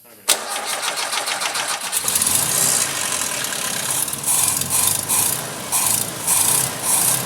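An old Toyota Hilux engine being cranked, a rapid rasping churn that catches after about two seconds and settles into a loud running roar with a few pulsing surges.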